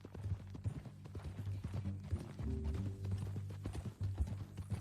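Horse hooves clip-clop steadily in Red Dead Redemption 2, a close, even rhythm of hoof strikes over low background rumble, with a brief low tone partway through.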